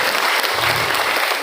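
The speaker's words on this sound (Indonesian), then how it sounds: "Tepuk tangan untuk kita semuanya hari ini." Students and parents applauding at a school career-day motivational seminar, a loud dense burst of clapping that fills the whole moment without speech.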